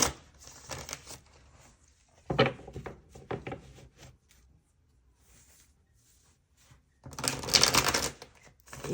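A deck of reading cards is shuffled by hand, two close, crisp bursts of riffling and slapping card noise separated by a quiet stretch, the second burst louder.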